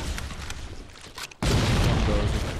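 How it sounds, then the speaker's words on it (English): A loud explosion in Halo: The Master Chief Collection during a Covenant battle, a sudden heavy boom bursting in after a brief dip and leaving a sustained rumbling roar. "that was an explosion that was not caused by our rocket"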